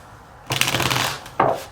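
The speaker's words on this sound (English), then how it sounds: "So, I'm going to just shuffle." Tarot cards being shuffled by hand in two bursts, a longer riffling rustle followed by a short second flutter, close and fairly loud with no talking.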